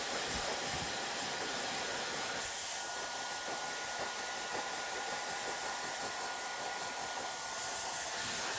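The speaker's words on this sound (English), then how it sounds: "I'm gonna start blow drying it." A hair dryer blows steadily while styling a women's hair replacement system, giving a continuous close whooshing roar with slight wavering as it moves, and no talking.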